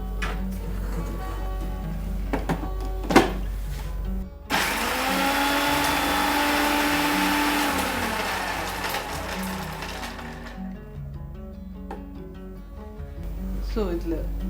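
A kitchen mixer grinder pulverises soaked almonds into powder, a loud steady whirring grind lasting several seconds between stretches of quiet talk, with the motor winding down before speech resumes.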